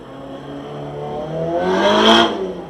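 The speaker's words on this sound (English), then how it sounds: "You'll hear that turbo coming." Turbocharged car at a gymkhana race at Killarney International Raceway, approaching and passing close by with a rising engine note and a loud swell near its peak before fading, with no talk over it.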